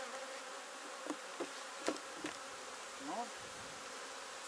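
Honeybees buzz around an open hive while honey supers are taken off, a soft continuous drone with a few nearby bees passing close in brief rising whines, faint overall; a single short spoken word.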